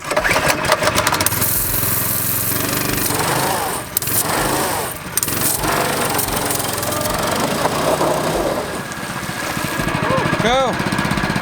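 A homemade amphibious go-kart's small petrol engine revs loud and close in a steady drone, with a brief dip near the start of the second half and a rising rev toward the end, while people shout over it.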